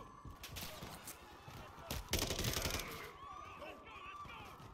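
Gunfire in the Call of Duty Modern Warfare 3 campaign, a few loud sharp shots and a brief burst, mixed with game sounds and people talking over it.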